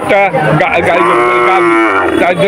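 At a cattle market in Digalia, Khulna, Bangladesh, a cow gives a long, loud, close moo that rises and holds, with a shorter lowing sound before it.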